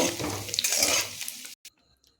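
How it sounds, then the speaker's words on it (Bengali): Paneer pieces fry in oil in a pan, a close, soft sizzle with light stirring and scraping that runs for about a second and a half, then cuts off, followed by a couple of faint clinks. "পনিরগুলোকে একটু ভালো করে ভেজে নিয়েছি একটু লাল লাল করে ভেজে নিয়েছি"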